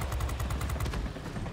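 Rapid aircraft machine gun fire in World of Warplanes, a dense run of evenly spaced shots lasting about a second and fading out, loud and close.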